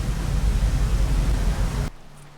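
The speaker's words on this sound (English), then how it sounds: "Oh no, it's raining." Rain pours down in the video game Rain World as a loud, dense, steady wash of noise that cuts off abruptly near the end, leaving near silence.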